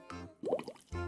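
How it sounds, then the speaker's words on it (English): Bubbles blown hard through a straw into a cocktail make a brief gurgling, plopping burst in the middle of the moment, with soft tonal sounds just before and after it. "And blow bubbles."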